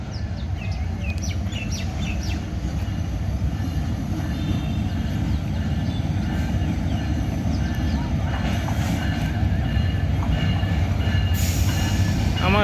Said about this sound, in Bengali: প্রথমে ইঞ্জিনের বডিটা থাকে, এই যে মহানগর বদুলি অথবা টুরনা এক্সপ্রেস